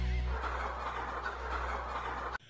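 Several chickens cluck and chatter together indoors, a steady, busy flock noise over a low hum that cuts off abruptly at the end.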